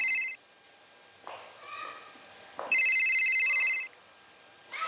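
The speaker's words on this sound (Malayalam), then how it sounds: "എന്ത് പറഞ്ഞാലും ഫോൺ അടിക്കണാരാ?" A mobile phone ringtone going off indoors, two bursts of a bright repeating electronic ring separated by short quiet gaps and softer sounds, loud and close.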